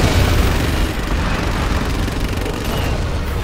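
A particle cannon blast in Command & Conquer Generals: Zero Hour, a dense, loud, sustained roaring boom with crackling burst texture that fills the whole moment and fades only slightly.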